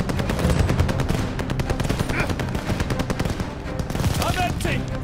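Machine gun fire in Call of Duty Vanguard, a dense, loud and continuous rattle of automatic shots with battlefield noise and brief shouted voices over it.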